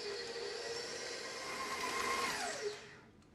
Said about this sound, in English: And we're going to mix that up.